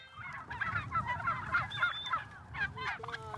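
Turkeys on an Indiana farm call in a dense, overlapping chorus of honking, gobbling cries, moderately close and continuous, with no talk.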